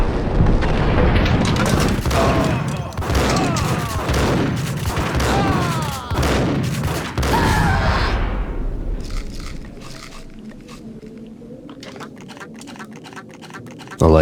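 Rapid gunfire from the Max Payne PC game, loud bursts and booms packed densely through the first eight seconds with a voice over the shooting, then a quieter stretch of scattered clicks and a sharp hit at the very end.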